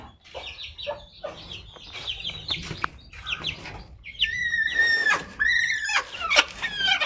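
A hen clucks repeatedly in short, close bursts as her five chicks peep and chirp around her, growing busier and louder toward the end.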